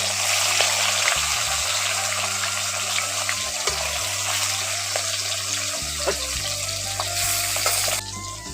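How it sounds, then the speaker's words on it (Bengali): Live koi fish frying in hot oil, a loud continuous sizzle and crackle close by, with a low steady hum underneath and no talking. "এবার এই তেলের মধ্যে মাছগুলো একটু একটু করে দিয়ে দিচ্ছি"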